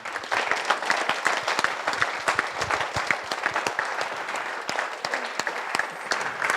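An audience at a ceremony bursts into sustained, lively applause from many hands, dense and even throughout with a few sharper claps standing out.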